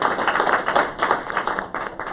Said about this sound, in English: Let's get a round of applause for our moderator